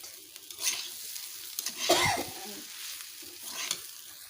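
Vegetables for vegetarian dalia khichuri are stirred in a hot pan, with a soft, steady sizzle of frying broken by a few scraping stirs of a spoon; quiet and close, nobody talking.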